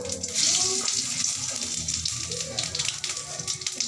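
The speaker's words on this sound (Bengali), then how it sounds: "জিরে ফোড়ন দিলাম, দারচিনি এলাচ একটু ফোড়ন দিলাম" Cumin seeds, cinnamon and cardamom sizzle in hot cooking oil, a steady loud hiss and crackle with no talking.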